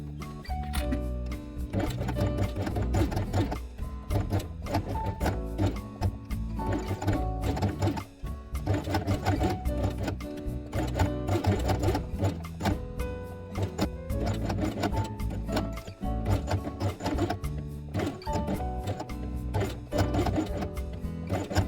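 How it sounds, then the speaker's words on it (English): White thread stitches two fabric pieces together for a handmade quiet book page, heard as a steady, fast mechanical chatter of needle strokes with brief pauses, close and unbroken by voices. "And sew both elements along the inside edge of the hole with white thread."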